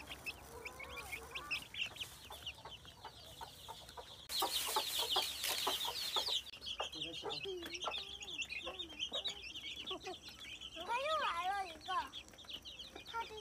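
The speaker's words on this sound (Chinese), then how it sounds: "看那个母鸡带几个小鸡，跑哪里去？" A hen with several chicks clucks and calls repeatedly at a farm, with other chickens and peeping chicks nearby and people talking over the birds throughout.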